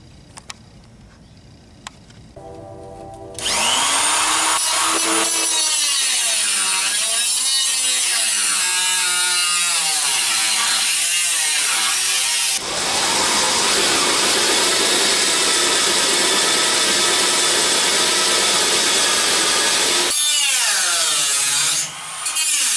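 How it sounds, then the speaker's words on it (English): Power tool grinding out spot welds on the outer rocker panel of a 1966 BMW Neue Klasse 2000c, loud and continuous for most of the stretch, with whining pitch shifts as the grinder bites into the metal and eases off. "We'll have to grind out welds there"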